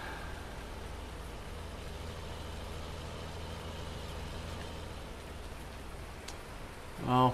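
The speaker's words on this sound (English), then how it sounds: "There's the rain." Rain in Farming Simulator 19 on PS4 falls as a steady, soft hiss, with a faint vehicle engine rumbling beneath it, before a short louder burst at the very end.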